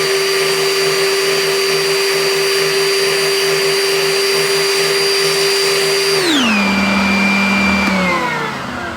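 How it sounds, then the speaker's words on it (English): A spindle sander rounding the top of a wooden beard comb hums steadily and loudly at close range, then its motor switches off and the whine winds down over the last few seconds. "I'm gonna go back to my spindle sander, and I'm just gonna clean up the detail that I just put on there"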